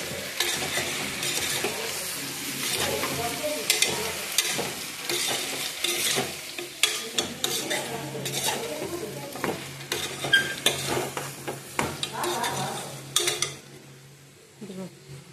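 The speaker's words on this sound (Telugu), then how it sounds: "ఇదిగో మొత్తం కలుపుకోవాలన్నమాట ఒకసారి." Mutton curry with spices is stirred in a sizzling pan, with quick repeated scraping strokes of the spoon over a steady fry that fades out at the end.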